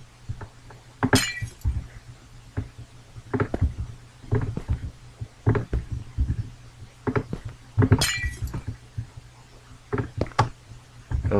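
Glass blocks are placed in Minecraft in a series of short clinks and taps, some in quick pairs. Two brighter shattering chimes stand out among them, and no one talks.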